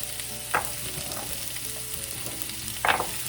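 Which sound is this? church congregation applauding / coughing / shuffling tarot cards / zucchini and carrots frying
zucchini and carrots frying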